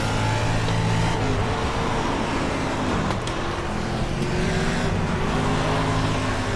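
A NASCAR dirt car in iRacing at Eldora roars under heavy throttle, its engine drone loud and continuous with shifting pitch, tyres and chassis noise layered in throughout.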